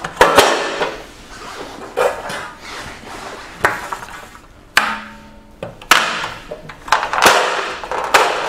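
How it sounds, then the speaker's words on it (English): Plain planks slide and knock into a Rhino-Rack alloy tray, producing a series of close, irregular scraping slides and sharp metallic clunks and taps. "And with the plain planks, they go in the centre. Inserting them in the same method as before."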